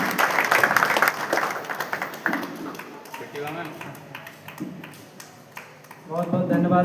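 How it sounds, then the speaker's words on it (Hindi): An audience claps at a welcome during a self-defence training programme at a government arts and commerce college; dense applause at the start thins out as a voice takes over. "तालियों की गड़गड़ाहट कम होनी चाहिए"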